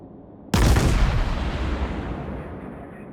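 A heavy naval gun salvo from an Atago heavy cruiser firing high-explosive shells in World of Warships booms sharply once, then rolls away in a long fading rumble.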